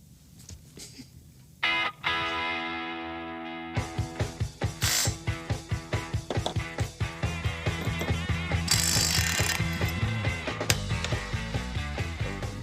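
A ratchet wrench torquing bolts on a 1975 AMC car in a garage, a rapid run of evenly spaced clicking strokes preceded by a brief mechanical clank, close and clear with no speech.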